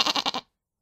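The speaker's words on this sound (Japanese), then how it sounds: "草を食べていたヤギがバイオラのそばに体をすり寄せ泣きました。" A goat grazing on grass gives a short, nasal, wavering bleat close by, heard alone before it cuts off into silence.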